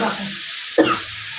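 Vegetables for a vegetable chop sizzle steadily in a pan without added water, a loud continuous hiss broken near the middle by a short scraping clatter as they are stirred.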